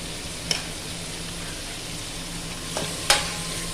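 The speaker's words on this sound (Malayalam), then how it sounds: "നന്നായിട്ടൊന്ന് വഴറ്റിയെടുക്കാം." Onions sautéing in a pan with a teaspoon of salt just added, a soft steady sizzle under a few sharp spoon scrapes and taps against the pan, no voices.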